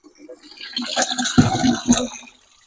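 Water splashes and gurgles as 1.5 litres are poured into a bucket of rubber latex coagulant mix, a short continuous pour with a couple of heavier sloshes.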